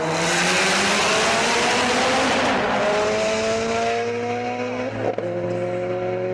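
A Mitsubishi Evo X with its 4B11 engine revs hard, the loud, close exhaust note climbing steadily in pitch, then settling into a sustained high drone with a brief dip near the end, with no talking.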